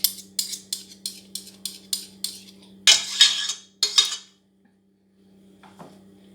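Metal knife scraping thick golden syrup off a tablespoon, a quick series of about eight light clinking scrapes, then louder longer scrapes and a faint clink, close and with no talking.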